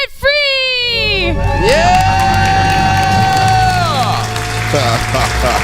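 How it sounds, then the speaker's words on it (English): A person and crowd let out a long, loud celebratory scream after paying off debt, a sustained high shriek rising and bending over several seconds, with cheering and applause swelling underneath. "Let's hear a debt-free scream."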